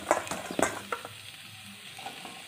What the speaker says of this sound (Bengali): খুব ভালোভাবে এবার এই ডাঁটাগুলোকে দিয়ে আমি নাড়াচাড়া করতে লাগবো